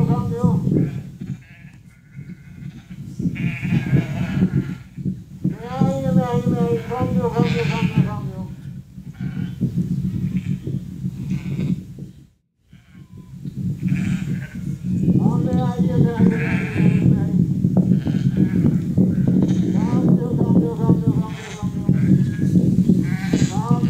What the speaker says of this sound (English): He's calling the sheep.